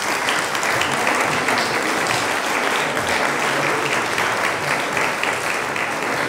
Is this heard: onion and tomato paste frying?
no